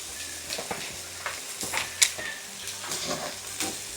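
Food sizzles softly in hot oil, with occasional scraping and clinks of a utensil stirring in the pan.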